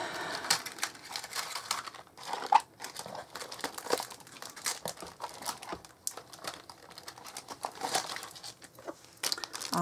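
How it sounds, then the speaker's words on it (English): Crinkly rustling of an open plastic packet of small gold embellishments, heard up close during a card-stamping craft session, with steady scrunching and crackling that continues throughout. "I thought I had a packet open, so sorry about the rustling."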